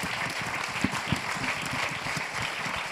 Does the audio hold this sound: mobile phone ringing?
no